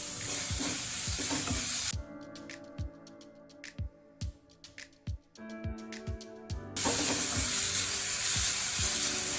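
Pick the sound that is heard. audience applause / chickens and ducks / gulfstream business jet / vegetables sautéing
vegetables sautéing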